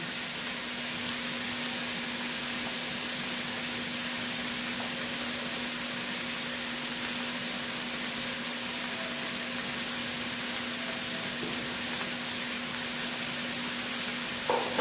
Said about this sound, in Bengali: নুন হলুদটা দিয়ে ভালো করে একটু ভাজা ভাজা করবো